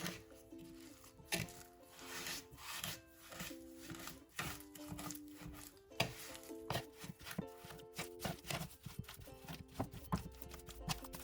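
Dough of sugar, poppy seed, vanilla sugar and egg is stirred in a bowl for lazy dumpling balls, giving close, steady rhythmic scraping and tapping strokes that repeat throughout over faint background music.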